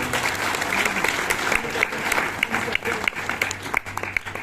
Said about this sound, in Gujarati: તો તેમના માટે પણ એકવાર જોરદાર તાળીઓ.